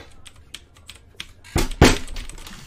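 A computer keyboard is typed on in light scattered taps, then slammed twice in quick succession with loud, close thumps, followed by a few softer keystrokes.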